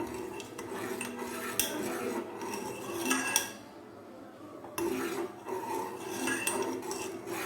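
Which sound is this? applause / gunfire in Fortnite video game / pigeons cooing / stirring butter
stirring butter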